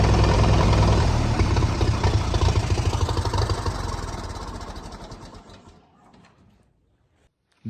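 An old tractor engine idles loudly and steadily with a low, knocking chug, then is switched off and winds down to silence over a few seconds.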